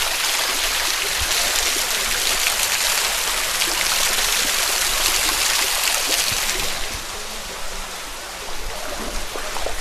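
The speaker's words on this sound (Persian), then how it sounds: "خوب یک شرشره مقبول در پیشوری ما آمد." A mountain waterfall and stream near a remote village in Khost, Afghanistan, roaring as a steady, loud broadband rush of falling water that fills the whole clip, with no voices.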